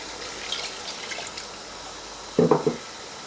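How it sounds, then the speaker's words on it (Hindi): Water runs and trickles steadily into a cooking pot of vegetables, with a brief louder splash near the end; no one speaks. "और अब इसमें आप ऐड करेंगे पानी।"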